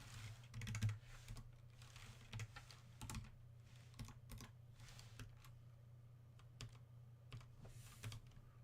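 Typing on a computer keyboard during a Minecraft Computercraft coding session, with quiet, irregular clusters of key clicks and short pauses over a low steady hum.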